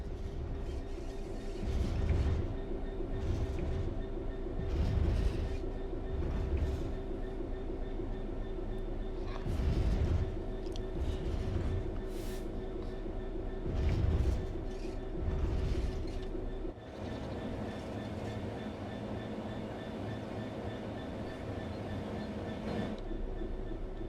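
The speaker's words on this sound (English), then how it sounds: "The train will then coast on level ground, and the train will only slow down very gradually." Locomotive coasting on level track in Train Sim World 4, a steady low rumble of wheels and running gear with faint rhythmic rail clicks, continuous and close, easing slightly quieter toward the end.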